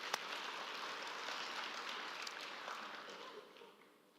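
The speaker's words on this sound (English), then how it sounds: "let's give our academics a round of applause" A crowd applauds the academics at a University of South Africa autumn graduation ceremony, a steady wash of clapping in a large hall that holds evenly before fading toward the end.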